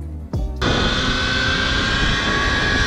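KTM Freeride EXC 2022 electric enduro bike rides with a loud, steady whine and rushing wind noise after a brief start, continuous and close.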